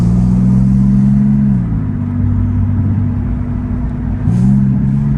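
A 600 HP Porsche 911 997.2 in Sport Plus mode accelerates on a city street in Mexico City, its engine a loud, close droning rumble that dips with a shift and then climbs again.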